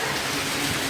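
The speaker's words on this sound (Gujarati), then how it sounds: "ખતરનાક વરસાદ પડી રહ્યો છે" Heavy monsoon rain pours down steadily in a village beside a house and school, a dense, even hiss filling the air with no breaks.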